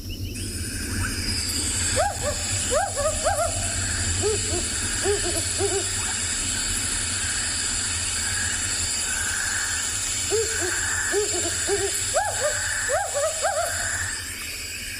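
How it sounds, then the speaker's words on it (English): Wood owl calling at an afternoon safari site in South Africa, a series of hooting notes repeated in two bursts over a constant background hum, distant and moderately faint. "here's the wood owl call."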